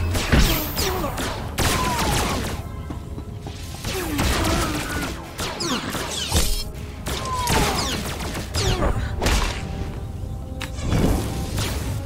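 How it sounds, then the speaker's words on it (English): Bursts of gunfire in the video game Star Wars: The Old Republic crackle and thump in a dense, busy soundscape, with overlapping shots, crashes and whooshes throughout. "can actually hear a bit of gunfire happening on the lower level."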